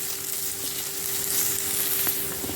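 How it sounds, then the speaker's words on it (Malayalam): Onion and capsicum sauté in a pan, giving a steady, even sizzle that runs the whole time with faint stirring ticks and no voices. "ക്യാപ്സിക്കം ചേർത്ത് കൊടുത്തിട്ട് ഒരു മിനിറ്റ് ഒന്ന് വഴറ്റി കൊടുക്കാം"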